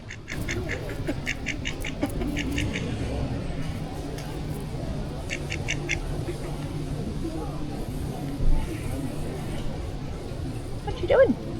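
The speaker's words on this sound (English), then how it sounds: "Hey duckies!" Ducks quack repeatedly in clustered bursts beneath a large tree outdoors, moderately close, with a person's voice speaking now and then over the calls.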